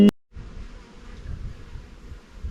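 Bees buzzing steadily around a beehive at an apiary, a dense continuous drone of many insects close by after a brief click at the start.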